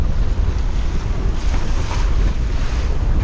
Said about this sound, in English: Still quite some impressive waves.